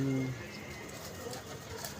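Teddy pigeons in a club loft give a short burst of low cooing at the start, then faint scattered coos over quiet background.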